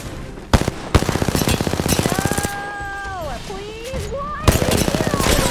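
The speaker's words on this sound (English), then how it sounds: "Leslie's gonna hear the gunshot" Video game gunfire rattles in rapid automatic bursts, loud and close, with a few heavier single shots, as a voice talks with a rising and falling pitch partway through.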